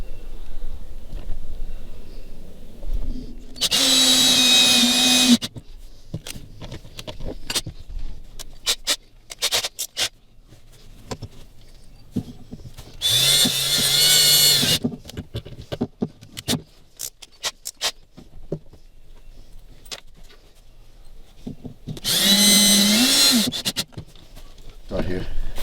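A cordless drill drives self-drilling screws in three loud, whining bursts of about two seconds each, with quieter handling and clatter between them, during the installation of an on-board battery charger on a boat.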